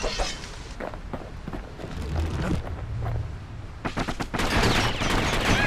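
Dual slinger pistols fire in bursts during a fight in the Bastion video game, rapid volleys of shots layered over game music and effects, loudest toward the end.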